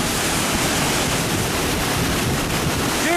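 Rushing water from a waterfall, a steady, dense roar of broadband noise that stays loud and unbroken throughout with no voices.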